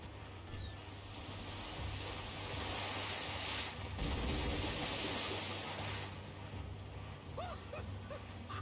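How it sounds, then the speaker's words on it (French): Sailing ship at sea in Assassin's Creed IV, a steady broad rush of waves and wind, with a surge of water in the middle and faint creaks. "Nous voguons à belle allure, Duncan, n'est-ce pas?"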